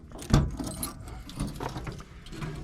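Keys for a 1973 Land Rover Series 2A LWB jangle and clink in a few short bursts, close by and handled, with a sharp metallic clatter near the start and softer rattles after.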